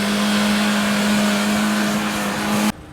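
An off-road SUV stuck in mud revs hard, holding one loud, steady engine drone for a few seconds before it cuts off abruptly.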